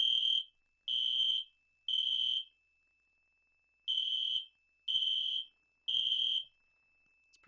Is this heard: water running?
no